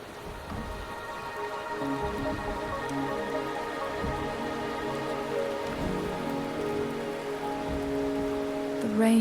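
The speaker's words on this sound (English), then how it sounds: "The rain is subsiding," Rain falls steadily in a video game, a soft continuous patter on surfaces under sustained background music, with no voices.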